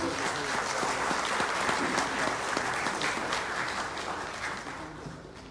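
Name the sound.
audience applause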